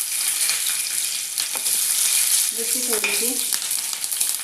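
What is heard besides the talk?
green chillies frying in oil in a kadhai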